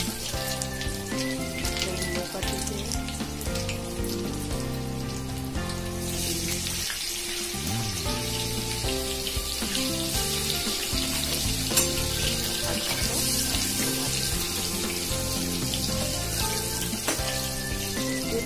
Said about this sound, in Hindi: हमने इसमें जीरा जीरे को तड़के के लिए